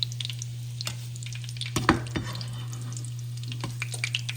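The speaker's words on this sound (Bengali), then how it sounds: "বাস, কাবাব ভাজা শেষ।" Kebabs frying in oil in a home kitchen, with a soft steady sizzle broken by a few sharp clinks and scrapes of a spoon stirring and lifting them out, heard up close with no talking.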